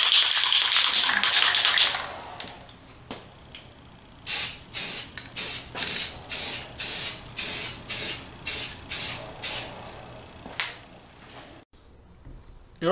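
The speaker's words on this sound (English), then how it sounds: "hit them with some gray primer." A spray can of gray primer hisses over a mini bike frame, starting with one long spray and then about a dozen short, evenly spaced bursts, loud and close, with no talking.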